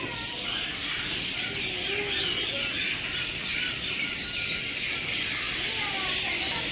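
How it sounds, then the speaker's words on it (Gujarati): Sparrows chirping in a banyan tree, a flurry of short high squeaky calls in repeated bursts over a soft outdoor background. "જો ગાઈસ કેટલો મસ્ત ચકલિયુંનો અવાજ આવે છે."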